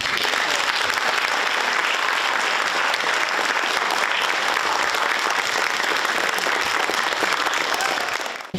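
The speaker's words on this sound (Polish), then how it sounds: "prosiłbym widownię o wielkie brawa" An audience in a theatre applauds a stage performer with loud, dense, continuous clapping that stays even for several seconds before cutting off abruptly.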